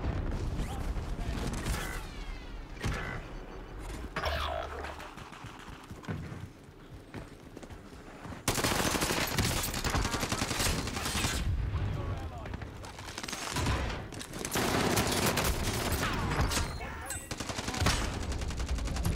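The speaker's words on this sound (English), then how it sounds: "Can't even shoot the guy who just shot me in my back." Gunfire in a wartime video game with an MP40 submachine gun, rapid bursts of automatic shots crackling repeatedly through a busy battle, with a player talking over it.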